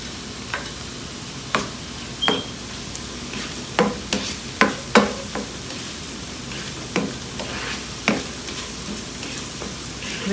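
Cumin seeds sizzle in hot oil for pav bhaji, a crackling hiss punctuated by frequent sharp pops and spoon scrapes at irregular intervals, close and fairly loud, with no talking.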